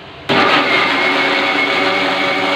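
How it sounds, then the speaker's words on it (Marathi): A mixer grinder blending five cooked, peeled tomatoes suddenly whirs to life and runs at a loud, steady high-speed roar, blending for a couple of seconds before cutting off. "आपण या मिक्सरमध्ये शिजवलेले टॅमॅटो आहेत 5, ते आपण वाटून घेऊया"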